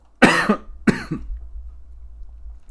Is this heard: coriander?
no